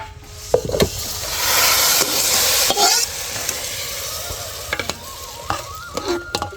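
A spoon stirring flour into boiling water in a pot, scraping and sloshing loudly up close over a bubbling hiss, with a few knocks against the pot rim.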